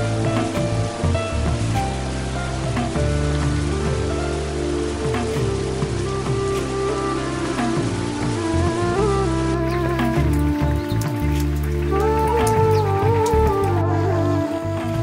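Steady rain falls over the Darjeeling hills in North Bengal, a dense continuous patter that holds at an even level throughout, mixed with a tonal musical layer.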